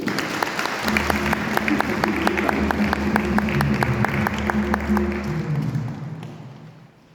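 A congregation at Sunday Mass claps for the children in a dense, steady round that fills the space, with a low murmur of voices and organ-like tones underneath, fading out at the end.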